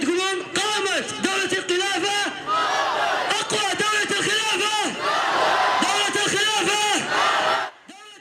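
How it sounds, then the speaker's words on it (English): A crowd chants call-and-response at a nighttime ISIS recruiting gathering, a lead voice alternating with massed shouted replies in a loud rhythmic pattern that breaks off near the end. "A call and response to excite the crowd"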